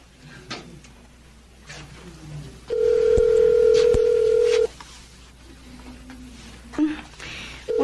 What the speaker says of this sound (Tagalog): Tawagan ko kaya si Sally.